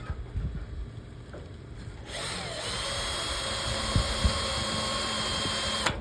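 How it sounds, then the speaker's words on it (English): A power drill with a step drill bit whines steadily into the metal of a 1964 Chevy Impala fender after a quieter start, a continuous high grinding tone with a few scraping bumps, close and fairly loud. "we're going to use a step drill bit"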